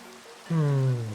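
Rain falling in the Minecraft video game, a steady soft hiss throughout, joined partway through by a louder low droning tone that lingers to the end.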